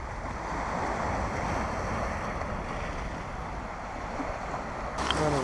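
Sea waves wash onto a small beach in Malta, a steady, fairly soft surf wash mixed with wind buffeting the microphone, ending in a sharper gust.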